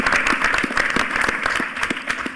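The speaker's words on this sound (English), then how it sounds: "Give yourselves a round of applause." Audience at a hackerspaces panel during a HOPE hacker conference applauds steadily, a dense, loud wash of many hands clapping with no break throughout.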